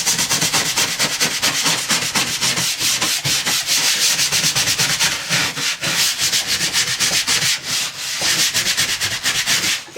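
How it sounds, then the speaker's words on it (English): A scrub brush works soap over a gunky cutting mat, making continuous, rapid, rough bristle strokes that stay close and fairly loud throughout. "Give it a good scrub with your scrub brush."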